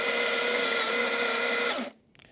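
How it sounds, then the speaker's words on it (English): A stepped espresso grinder whirs loudly and steadily for almost two seconds while purging old grounds, then winds down and stops, leaving a faint clatter after it. "I'm going to purge some of the grinds that were at the old setting"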